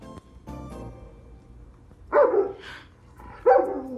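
An Alexa smart speaker plays a recorded dog barking, giving two loud, separate barks near the end after a quieter stretch of low sounds.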